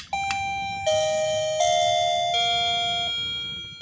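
A wired doorbell being installed for a laundry shop rings with a bright electronic chime, stepping through several sustained descending tones, loud and close over steady low background hum.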